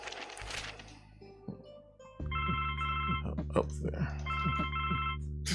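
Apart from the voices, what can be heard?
telephone ringing in the video game The Blackwell Legacy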